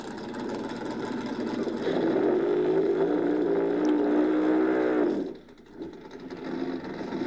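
A Chevrolet S10 drag racing truck at a no-prep drag race roars loudly as its engine rises in pitch, then cuts off abruptly, leaving faint background noise.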